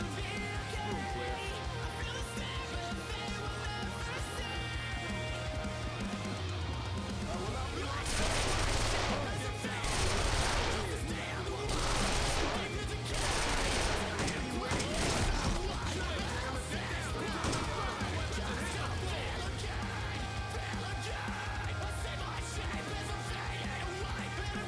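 Gunfire rings out in the SWAT 4 video game, repeated loud bursts of shots in the middle stretch over a constant background of in-game ambience and noise.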